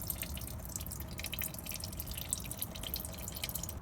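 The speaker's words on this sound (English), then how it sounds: "that's still draining just a little bit out of that lower hose." Coolant from a VW Eos radiator's lower hose dribbles steadily into a catch pan, a continuous close pattering of drips and trickling liquid.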